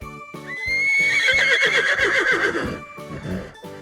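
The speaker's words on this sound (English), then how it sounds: "Which animal makes this sound? A. Horse. B. Lion. C. Cow. Correct! It's a horse." A horse neighs loudly in a long, wavering whinny over rhythmic hoof clip-clops, close and clear.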